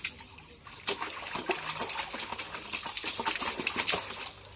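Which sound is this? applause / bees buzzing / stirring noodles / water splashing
water splashing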